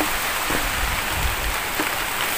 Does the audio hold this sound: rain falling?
yes